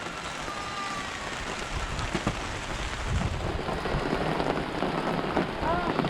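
Steady rain pours down outdoors at a goat farm, a dense wash of patter with heavier drops hitting surfaces, and a voice speaks briefly over it.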